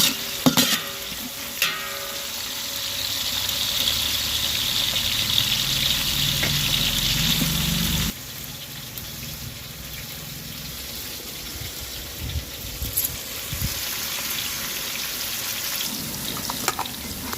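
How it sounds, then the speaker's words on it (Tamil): Tomatoes stirred and fried in oil for chicken dum biryani, a loud continuous sizzle with repeated spatula scraping and clinks, easing slightly partway through. "இதை நல்லா மிக்ஸ் பண்ணிவிட்டு தக்காளி பழம் நல்லா வெந்து வரணும்."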